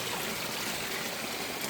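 Water dribbling from a small leak in a garden hose, a faint, steady trickling hiss close by, heard alone.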